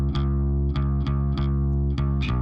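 A bass guitar plays a repeated note with gritty distortion on everything above 150 Hz while the low end stays clean, several plucks in steady rhythm.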